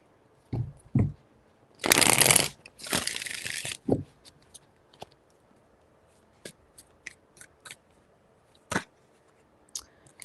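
Tarot cards are shuffled in two bursts of rapid riffling close by, with scattered card taps and light handling clicks before and after in a quiet room.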